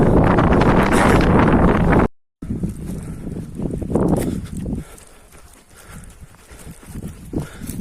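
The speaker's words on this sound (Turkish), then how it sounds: "Rüzgar esiyordu arkadaşlar." Gusty wind roars across the microphone, rumbling loudly, briefly cutting out, then continuing as a softer, uneven blowing.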